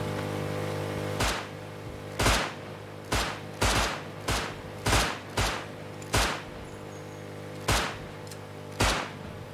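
Single gunshots in the survival game Rust ring out one at a time with irregular gaps of about half a second to a second, roughly ten sharp loud cracks over a steady low background hum.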